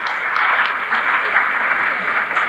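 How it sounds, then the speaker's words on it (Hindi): An audience at a gathering on a walking pilgrimage claps steadily in a dense, even wash of applause from a crowd, with no single claps standing out. "आप लोग तालियों से श्री राजकुमार जी का धन्यवाद स्वागत करें।"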